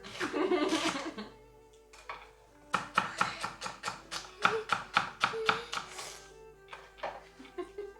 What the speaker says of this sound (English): Let's chop up the celery